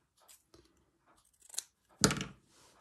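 Scissors snip through fabric scraps for a slow-stitch scroll: a few faint crisp clicks, then one louder, crunchier cut near the end, close up with no talking.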